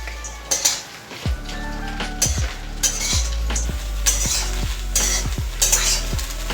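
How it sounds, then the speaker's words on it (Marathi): Food frying in oil with just salt, a steady sizzle broken by repeated sharp clinks and scrapes of a utensil against the pan, close and fairly loud with no talking. "फक्त मीठ आणि तेल वापरून मस्त फ्राय करणार आहोत"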